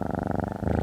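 A cat purrs close up, a loud rhythmic rumbling purr with a steady pulsing beat throughout.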